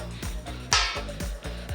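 A household dustbin lid struck as a percussion instrument, layered into a looped beat with deep thuds and one bright metallic crash, played in a steady rhythm close to the mic with no talking.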